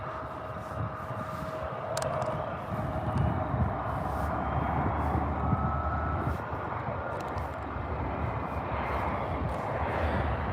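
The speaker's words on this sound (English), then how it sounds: "We have a takeoff with a CRJ 700, a taxi with a Cessna, oh my god, and we have a E175 landing" Jet and propeller aircraft at Dallas/Fort Worth airport, with a CRJ 700 taking off, a Cessna taxiing and an E175 landing, heard as a sustained broad engine roar with a steady whine, distant and continuous.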